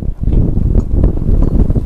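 Strong wind buffets the microphone at sea among houses built over the water, a loud rumbling gusty roar with uneven thumps and no one speaking.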